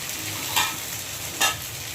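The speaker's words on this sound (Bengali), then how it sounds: "এখান থেকে সবজিটা ভালো করে মশলাটা ভালো করে ভেজে নিচ্ছি।" Vegetables and spices for khichuri frying in a pot, a constant close sizzle with two short bursts of louder scraping as the mixture is stirred.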